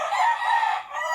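A rooster crows once, close and loud, a single sustained bright call with a brief dip near the end, no talk over it.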